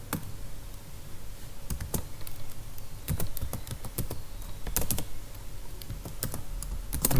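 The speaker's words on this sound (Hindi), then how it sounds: "मैं पहले सिंटैक्स टाइप कर देता हूँ।" Keys clatter on a computer keyboard as a command is typed in a Kali Linux terminal, with irregular bursts of close, crisp clicks and taps running steadily throughout, no voices.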